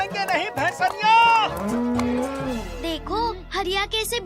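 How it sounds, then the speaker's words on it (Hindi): A buffalo moos in a long drawn-out call amid a cartoon scene, with busy music and voices around it. "जरा इस भैंसनिया को तो बांध दें"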